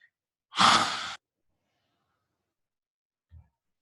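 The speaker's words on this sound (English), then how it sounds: "taking a full breath in" A single deep, full breath drawn in during a guided yoga breathing exercise, close and fairly loud for about half a second, then quiet with a faint soft puff later.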